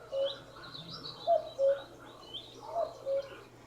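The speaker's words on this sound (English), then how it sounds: "There's a cockatoo." Several short, bright cockatoo calls, a sound effect played from a Govee Table Lamp 2 Pro speaker, sound at intervals over a faint ambient bed, clear and fairly close, with no talking.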